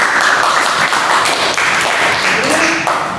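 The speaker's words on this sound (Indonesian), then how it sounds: "Tepuk tangan dulu" A classroom of students applauds after a group presentation during a micro-teaching session, loud, dense clapping that holds steady for several seconds, with a few voices mixed in.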